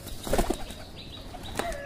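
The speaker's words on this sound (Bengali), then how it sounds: "তো চলো আমরা এটাকে ছেড়ে দিই বাইরে।" A released pigeon flaps its wings in a brief, close burst of fluttering beats, then quieter rustling outdoors with no talking.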